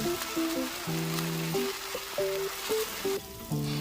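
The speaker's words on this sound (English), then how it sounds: "we're continuing stir-fry chicken and mushroom together for about 3 minutes" Chicken and king oyster mushrooms hiss and sizzle steadily as they are stir-fried in a hot pan, with melodic background music playing over the frying.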